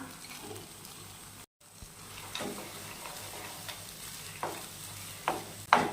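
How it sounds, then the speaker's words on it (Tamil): Roasted cashews and raisins are stirred into red poha kesari in a pan, giving a few soft scraping stirs and light, faint sizzling with occasional sharper clinks. "இப்போ வறுத்து வச்சுருக்க முந்திரி திராட்சை சேர்த்துக்கலாம்"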